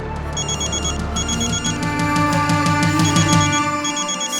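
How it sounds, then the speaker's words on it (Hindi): A telephone rings steadily in repeated bright trills, loud and close, with a low hum underneath and no talking. "साहिल का फोन"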